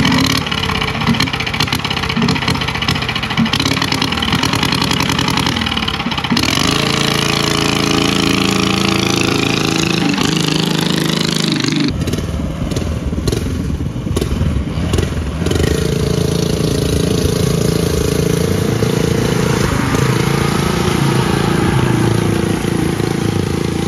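Custom-built gasser lawn tractor engine roaring continuously and loudly at close range during a pull, its pitch shifting as the revs change, with heavy mechanical rumble throughout.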